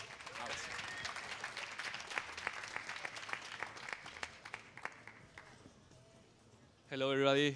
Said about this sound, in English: A big applause for Semantic Robot.